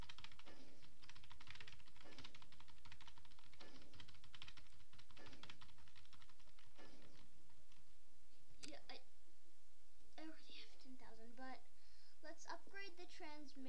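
Computer keyboard with the 6 key pressed over and over during a Plague Inc. game, a steady run of quick clicks for several seconds, then a whispering voice and other speech take over near the end.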